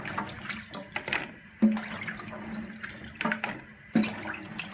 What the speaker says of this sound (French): On les a bien nettoyés, bien fait tremper. On les égoutte.